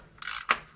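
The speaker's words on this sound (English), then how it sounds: "then you're gonna grab a ratchet" A ratchet on an '86 Chevy C10 gives a quick, close rasping turn followed by a single sharper click, both over in under a second.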